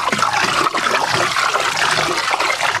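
Very cold water from Maine is poured out in a steady, loud rush that splashes and trickles without a break for about three seconds.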